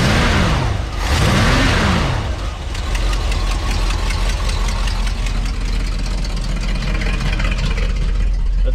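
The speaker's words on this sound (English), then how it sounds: "See how it looks when you rev up the engine." A 1984 Ford F-350 engine with a GM alternator fitted revs up twice in quick rising-and-falling sweeps, then settles into a loud, steady, slightly knocking idle close by.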